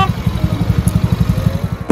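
A motorcycle ridden in an animated scene, a close, loud engine putting out a rapid, steady pulsing chug that holds an even rhythm throughout.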